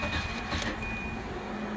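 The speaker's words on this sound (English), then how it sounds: "Now you can hear the pump actually go." A Volvo 940 inline fuel pump runs with a steady, thin electric whine over a constant low mechanical hum, continuous and close for under two seconds.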